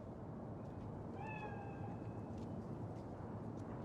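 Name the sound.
cat meowing in Cyberpunk 2077 video game, a cat spirit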